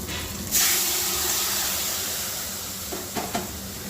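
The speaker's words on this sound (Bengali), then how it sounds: "এরপর আগে থেকে আমি সেদ্ধ করে রেখেছি কুমড়োটা ঢেলে দেবো" Boiled pumpkin is tipped into a hot pan of oil with cumin and green chili for a prawn and pumpkin curry. It gives a sudden loud sizzling hiss that slowly fades, and a few soft clinks come near the end.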